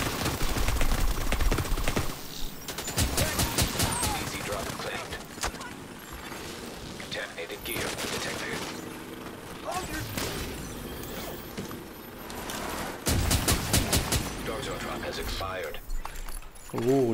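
Video game gunfire comes in repeated rattling bursts mixed with clicking, ratchet-like weapon mechanisms, loud and close, broken by short pauses, with voices talking underneath.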